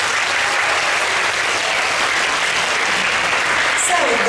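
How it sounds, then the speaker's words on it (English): Steady, loud applause from a school assembly crowd fills the whole stretch, a continuous wash of clapping with no pauses. "Give applause to PYP 6."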